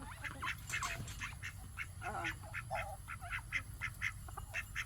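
Runner ducks quack repeatedly at regular feeding time on a hot day, a steady series of nasal calls over a low background hum, moderately close.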